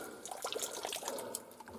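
Water runs and drips down from above onto heating pipework during plumbing work, a steady close trickle with scattered drips, no talk.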